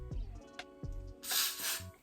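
A short hiss of hairspray bursts out onto a hairline after a few low thumps and soft handling noises, close by and fairly quiet.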